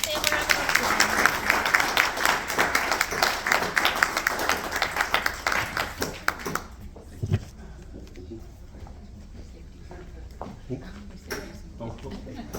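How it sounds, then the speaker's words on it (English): An audience at a holiday networking event applauds a presenter, with dense, loud clapping for about six seconds that then thins to a few scattered claps and faint room noise. "let's give Sam a round of applause."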